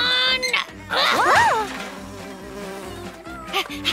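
Cartoon bees buzzing, a wavering insect drone that rises and bends in pitch, heard in short bursts with brief breaks between them.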